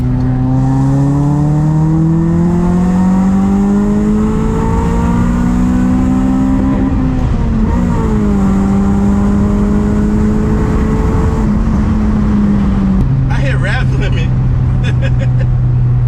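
Honda Prelude engine on a street-tuning build revving steadily near 3,000 RPM, a loud continuous droning hum that rises slowly, dips briefly, then settles to a lower idle-like tone near the end.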